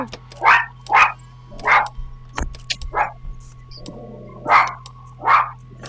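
A dog barks in a string of about seven sharp barks spaced roughly evenly, loud and close, over a steady low electrical hum, with a soft whimpering moment between them.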